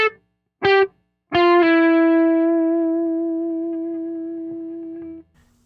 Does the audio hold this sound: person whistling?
no